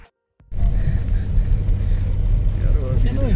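A Mercedes car arrives in deep snow on grassland and keeps running. After a short silence its low, close engine rumble sets in and stays steady.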